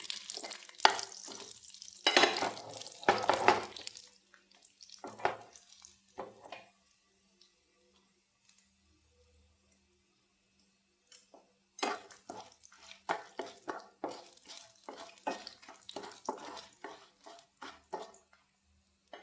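Lentils, urad dal, garlic and chillies fry in a pan, heard as bursts of scraping stirs and light sizzling, a quiet stretch in the middle, then a rapid run of spatula strokes against the pan.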